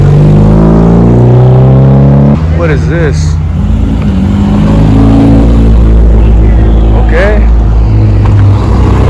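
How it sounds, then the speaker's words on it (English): A Honda Civic Type R revs loudly and close at a car meet, its engine droning and surging with a sharp rise midway, while someone speaks briefly over it. "It's loud, but that was a nice Type R."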